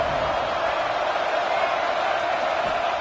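A stadium crowd roars steadily at a college football game as Tech faces third down, a dense, continuous wash of cheering and noise with no break across the moment.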